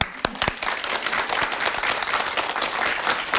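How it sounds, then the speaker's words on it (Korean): Audience applause at a seminar-style lecture, a burst of claps rising into steady, dense clapping that fills the room for a few seconds. "세상을 바꿨으니까 박수 한번."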